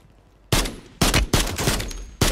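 Gunshots in the video game Warzone: four sharp, loud bursts of rapid gunfire separated by brief gaps, each a close, crackling volley after a quiet opening half-second.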